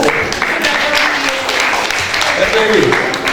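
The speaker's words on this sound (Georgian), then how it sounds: "აპლოდისმენტები კახაბაცილაძეს" Audience applause fills a poetry evening at the Writers' House in Tbilisi, a dense, steady patter of clapping with voices talking over it throughout.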